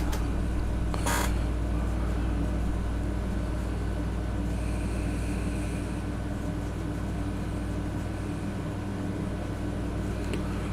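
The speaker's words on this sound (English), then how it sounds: "These cars sound so good." Race cars run laps on a track, heard as a steady, unbroken engine drone that seems somewhat distant and stays level throughout, with no voices.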